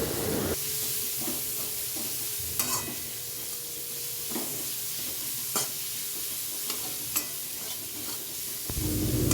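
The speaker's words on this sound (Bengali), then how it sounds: "চিংড়ি মাছ ভাজা তেলের মধ্যে পেঁয়াজ কুচিগুলো ভেজে নিচ্ছি।" Chopped onions fry in oil left from frying prawns, a steady hiss punctuated by sharp scrapes of a spatula stirring the pan every couple of seconds.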